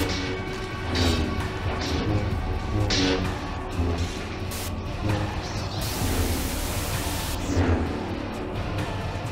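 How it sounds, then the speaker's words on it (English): Lightning crack and rumbling thunder effect in the Roblox game Saber Showdown, a broad noisy burst that swells loud midway and fades, over a constant dense bed of game sound with no talking. "Oh, lightning."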